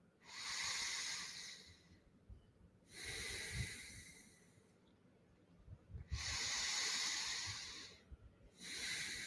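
Deep, slow breaths during a morning breathwork exercise, with long airy inhales and exhales alternating in an unhurried rhythm, close and hissy with quiet gaps between them.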